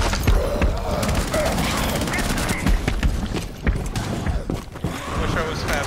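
Rapid gunfire in Rainbow Six Siege's Outbreak mode, bursts of shots and mechanical clatter crowding together, loud and close, with players talking over the shooting.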